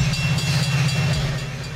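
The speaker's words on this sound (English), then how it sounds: "Double-decker train." A double-decker passenger train rolling past, a loud continuous low rumble with a steady droning hum throughout the short stretch.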